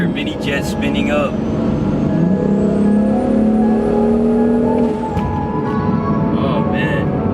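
Single turbo BMW M3 engine revving hard, its turbo spooling up with rising whine over loud, steady engine roar, close and continuous, with a person speaking over it.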